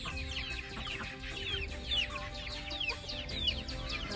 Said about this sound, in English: Our Bantam Cochins are right here on the front, these two.